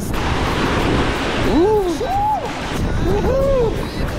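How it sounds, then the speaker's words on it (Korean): Strong ocean waves surge at a small volcanic island in Portugal with black sand and irregular rocks, a steady broadband wash with wind buffeting the microphone, while voices talk over the surf. "파도가 너무 세다."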